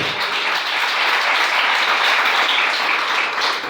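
Loud, sustained applause fills the room as a Spanish-speaking church congregation claps together during a morning service, an unbroken wash of hands with no pause.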